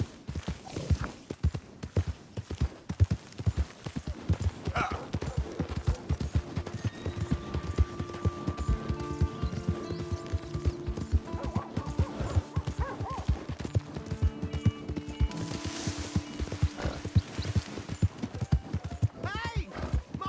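Horse hooves clip-clop steadily in Red Dead Redemption 2, a fast, even rhythm of close, sharp strikes running throughout, with a brief whinny and voices talking over the gait.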